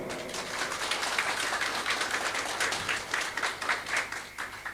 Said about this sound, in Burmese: လက်ခုပ်တီးအောင်